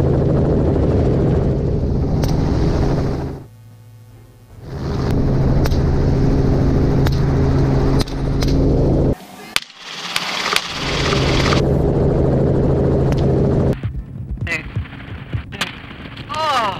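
A helicopter flies over coyote hunting country, its loud, throbbing rotor and engine roar filling most of the stretch, broken by abrupt cuts and sharp bangs.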